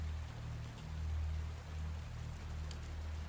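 Steady rainfall patters on surfaces in a continuous soft hiss, with scattered nearby drops and a low rumble underneath, constant throughout without voices.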